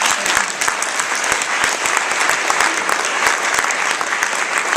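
Steady, dense applause from an audience at an awards presentation fills the space, sustained clapping with no speech over it.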